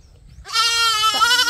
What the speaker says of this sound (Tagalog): Dadating natin yung kambing.